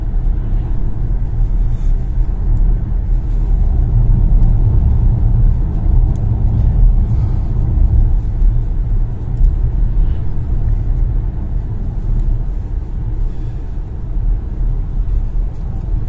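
MG ZS EV electric car driving on a road, a steady loud low rumble of road and tyre noise inside the cabin throughout, with no talk.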